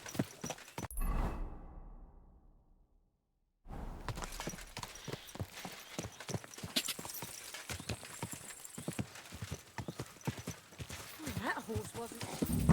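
Horse hooves clip-clop in the video game Kingdom Come, rapid rhythmic strikes after a brief silence, along with a whinny and a voice speaking over the galloping.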